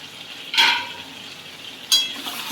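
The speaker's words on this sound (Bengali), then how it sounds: "এবার আমি ঢাকনাটা তুলবো" Lid lifted off a pan of mixed vegetables, two brief bright metallic clatters about a second apart over a quiet background hiss.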